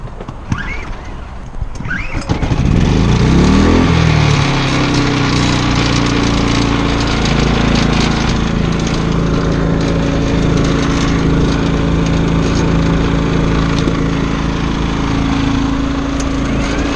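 An RV generator engine starts up after a couple of seconds of quieter sound, then runs steadily and loudly with a constant drone for the rest of the stretch, no talking.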